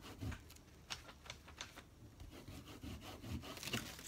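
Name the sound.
rubbing a surface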